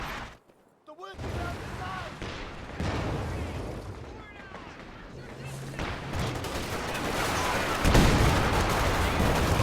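Infantry support guns firing in Company of Heroes 2 combat, dense overlapping gunfire and booming blasts building in intensity, with a voice talking over it.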